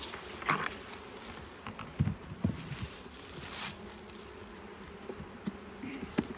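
Honey bees buzz around an open hive nucleus colony, a continuous low drone with scattered louder passes of individual bees flying close, plus a few soft knocks and handling sounds.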